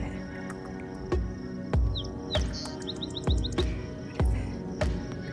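A small bird chirps from a fence straight ahead outdoors, giving a few thin, high, irregular tweets at moderate distance over a steady background hum.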